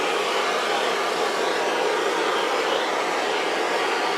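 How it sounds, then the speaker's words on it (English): A torch roars steadily over a fluid acrylic paint pour, a continuous broadband hiss with no pauses, loud and close throughout. "Let me torch first"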